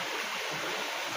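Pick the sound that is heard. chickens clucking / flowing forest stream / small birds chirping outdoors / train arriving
flowing forest stream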